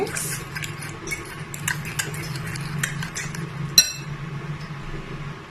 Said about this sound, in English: I'll also go ahead and mix